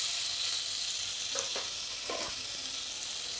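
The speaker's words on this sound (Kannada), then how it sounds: "ಈಗ ಮೊದಲು ಸ್ವಲ್ಪ ಜೀರಿಗೆನ ಹಾಕಿ, ಸ್ವಲ್ಪ ಶುಂಠಿ ಬೆಳ್ಳುಳ್ಳಿ ಪೇಸ್ಟ್," Cumin and ginger-garlic paste fry in a pan, a soft continuous sizzle with a couple of brief stirring scrapes, quiet and close with no talking.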